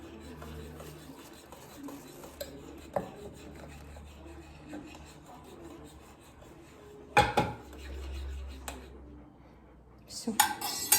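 A spoon stirs hot milk with beaten egg in a cup, making soft scraping and clinking against the sides. Louder clatters and knocks break in near the end.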